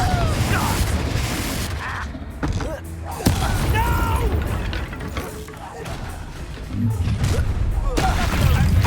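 Spell impacts in Hogwarts Legacy combat, a dense run of booms, bursts and crashes over game music, with a character's voice speaking throughout.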